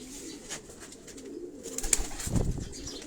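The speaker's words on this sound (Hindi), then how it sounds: "ये डॉक्टर साहब के अपने घर के कबूतर हैं" Domestic pigeons kept at a family home coo softly, with a low burst of cooing near the end over a faint background hiss.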